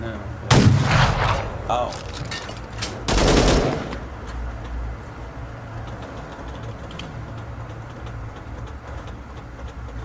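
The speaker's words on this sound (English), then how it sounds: "Take a few practice shots at those vehicles across the river." Turret gunfire in the video game Fallout: The Frontier: two loud, booming bursts early on, the second longer, then a rumbling background as a voice briefly exclaims.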